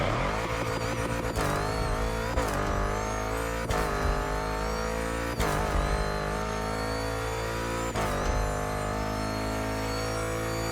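A car engine fitted with an Ultracharger Kit revs loud and close in The Crew Motorfest, climbing repeatedly through high-pitched, raspy sweeps broken by sharp gear shifts.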